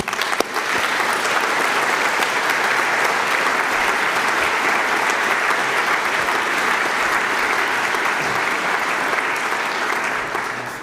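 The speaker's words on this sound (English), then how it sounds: "I guess this is worth a round of applause for Sven and his team." A round of audience applause at the Munich Security Conference 2024 innovation night, for the event's organizers. The clapping is dense and even, starts abruptly, holds steady and tapers slightly at the end.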